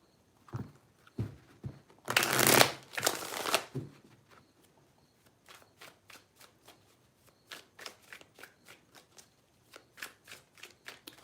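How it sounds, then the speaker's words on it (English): Tarot cards are shuffled nearby: a loud riffling burst, then a long run of soft, evenly spaced taps and flicks as the deck is handled. "Three shuffles for Aries and their person, please."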